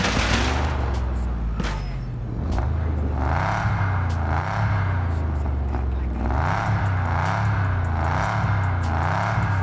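Engine note from a car driven in Test Drive Unlimited rises and falls through repeated gear changes, steady and loud under occasional background game effects.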